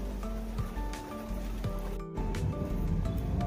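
Steady rain falls throughout on an overcast late afternoon, a dense even hiss with scattered drips and patters, close and continuous, no talking.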